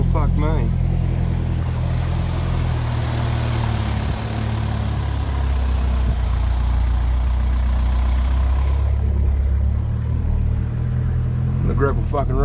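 A ute rolling along a gravel road, its engine droning low and steady with tyre rumble and crunching underneath, while people talk over it inside the cab.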